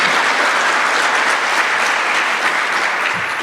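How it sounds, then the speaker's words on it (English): Audience applause fills a conference reception hall for the hosts of a three-day law college event, a steady dense wash of many hands clapping at close range with no voices. "let's give them a round of applause"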